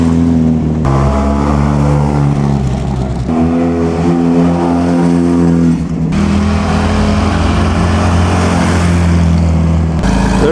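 A vintage Siata sports car racing in the 2015 Mille Miglia, its engine a loud, close, sustained drone whose pitch climbs and shifts through gear changes as it passes, with no voices over it.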